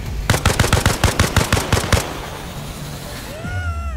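Automatic gunfire in a video game, a fast, loud burst of evenly spaced shots lasting under two seconds, followed by quieter ambient noise and a brief rising whine.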